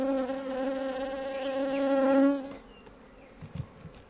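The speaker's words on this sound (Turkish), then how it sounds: "Evet, mutlaka arı silkeleyin." Honeybees shaken from a hive frame during a colony split give a dense, loud buzzing drone that cuts off abruptly partway through, leaving a faint scattered hum and a few soft knocks.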